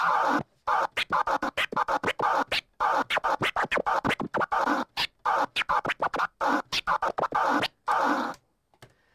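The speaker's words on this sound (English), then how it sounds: "And the transformer scratch," Turntable transformer scratch: a record sound chopped into fast stuttering bursts by rapid on-off cuts, loud and rhythmic with short silences between phrases.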